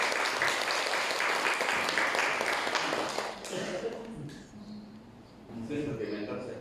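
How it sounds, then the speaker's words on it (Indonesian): An audience at a government orientation seminar in Surakarta applauds after a presentation. The clapping is dense and sustained for about three seconds, then fades as a voice talks over it, and a little more clapping follows. "Kita berikan aplaus buat dulu."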